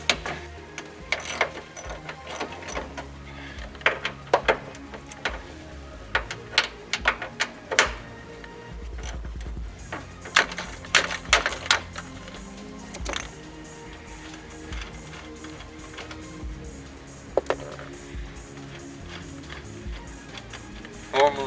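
An 11mm socket wrench works bolts loose on the door of a 1999-2004 Ford Mustang, giving quick clicking ratchet ticks in bursts, close and fairly quiet, with scattered clanks from parts being handled.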